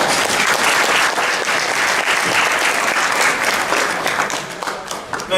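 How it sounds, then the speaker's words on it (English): A forum audience on voting rights applauds a congressman with steady, loud, dense clapping that holds throughout and thins slightly just before the end. "let's give Congressman Steny Hoyer another round of applause"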